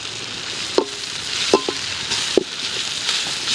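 Onions sizzle in a pan for vermicelli chicken biryani, a steady close hiss broken by a few sharp clinks of a spoon stirring against the pan.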